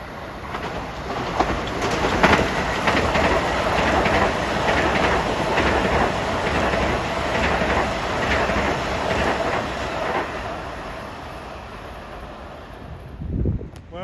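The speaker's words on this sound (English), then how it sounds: "here comes 171 from Babylon to Penn Station at 4:54" Long Island Rail Road train 171, a set of M9 cars bound from Babylon to Penn Station, rolls into Forest Hills station with steady wheel and rail clatter, loud and close, under light wind noise, fading near the end.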